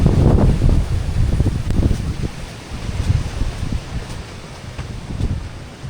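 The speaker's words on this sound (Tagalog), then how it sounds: "ramdam pa rin yung bagyo na dumadaan ngayon" Strong typhoon wind at a campsite roars and buffets in uneven gusts, with low rumbling surges and faint rustling throughout.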